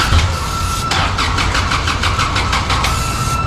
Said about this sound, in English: we could flash back to that previous clip where you at least heard it crank